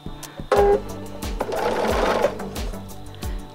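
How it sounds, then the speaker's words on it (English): A Bernina 780 sewing machine runs through cotton fabric, its rapid needle chatter starting abruptly and continuing in steady bursts, close and clear with no talking. "I am using a Bernina 780. I've cleaned and oiled it, and now I'm going to sew the right sides together."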